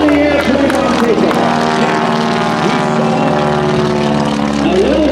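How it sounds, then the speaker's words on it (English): A stock Stearman biplane's radial engine roars steadily throughout its takeoff roll at a 2009 Langley AFB airshow, loud and continuous with a droning propeller buzz, while an announcer's voice carries over a public address. "Mr. John Mohr, rolling the airplane on takeoff"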